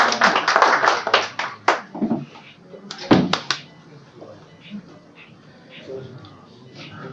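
Applause from guests at a literary book-launch gathering in Pakistan, a burst of scattered loud claps that thins out, returns briefly, then fades to sparse faint taps with murmuring voices.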